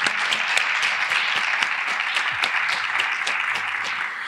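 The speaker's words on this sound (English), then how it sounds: "If you want to clap for them, you can too." Steady, dense audience applause at a local speaking event, thanking the event's sponsors; many hands clap continuously at moderate loudness with no talking.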